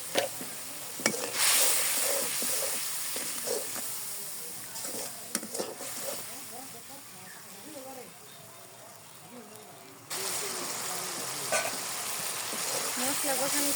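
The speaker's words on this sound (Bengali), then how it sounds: "মশলা কষানো শেষ," Spice paste of turmeric and chilli fries in a pan while being stirred, giving an uneven sizzle with scraping and clacking strokes, under a voice talking through much of it, the hiss swelling louder toward the end.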